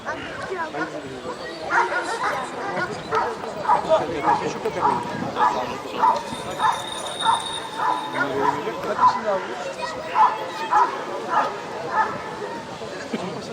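Repeated barks and yips from a Kangal dog ring out in a steady series over a busy background of people talking and chattering at a Kangal dog competition in Turkey.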